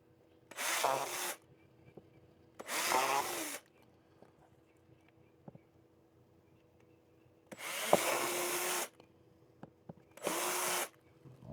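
A drill bores a hole through an Acerbis supermoto fender on a 2023 KLR 650 in four short, loud bursts of whirring, each about a second long, separated by quiet pauses.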